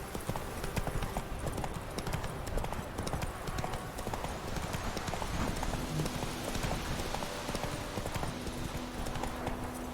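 Roach, a horse in The Witcher 3, trots along a road with a steady, rapid clip-clop of hooves that continues evenly throughout, with a voice speaking faintly over it.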